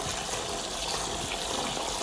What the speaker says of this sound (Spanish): Vamos ahora a lavar el arroz.